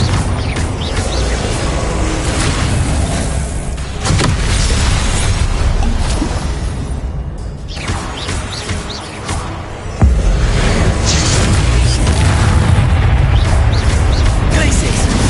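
Confringo fire-blast spell explosions in the game Hogwarts Legacy, heavy booms and bursts over a loud, dense, continuous roar, with sharp new impacts around four and ten seconds and almost no quiet between them.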